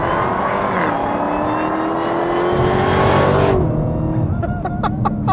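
A 2015 Dodge Challenger SRT Hellcat with its 707-horsepower engine roars loudly in third gear, pitch climbing steadily under hard acceleration, then cutting off into a whirring lull with a few sharp ticks.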